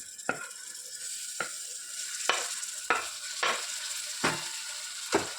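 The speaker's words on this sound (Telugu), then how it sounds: "ఇప్పుడు టమాటాలు బాగా మెత్తగా మగ్గేంత వరకు వీటిని కుక్ చేసుకోవాలి." Chopped tomatoes and fenugreek leaves frying in a pan, a steady sizzle broken by about seven sharp scrapes of a spoon stirring, close and alone without talk.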